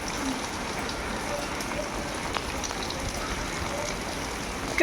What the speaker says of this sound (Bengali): রেনকোট পরে বৃষ্টিতে ভিজছে।